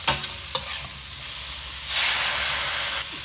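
Pork stomach stir-frying with dried chillies and pounded garlic in a hot pan: a continuous sizzle broken by two sharp utensil knocks early on, then a louder, hissing burst of frying for about a second, close and without speech.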